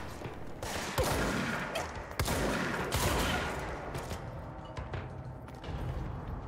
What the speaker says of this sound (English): we'll use my gun on this guy